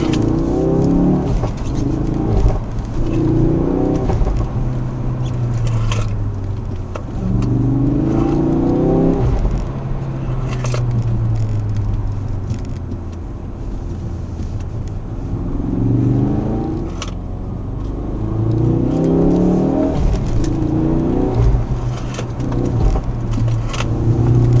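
A remapped Ford Focus RS Mk3 engine revs hard, rising and falling in repeated loud surges under steady road rumble, heard from inside the car with no talk.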